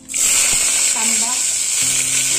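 Chopped onion hitting hot oil already seasoned with bay leaf, mustard seeds and cumin gives a steady, close sizzling hiss that holds for the whole stretch, with a brief voice murmuring underneath.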